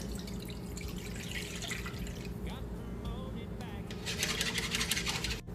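Gravy poured into a pan while cooking roast beef sliders, a soft continuous liquid trickle and splash under steady talk, growing a little louder and brighter near the end.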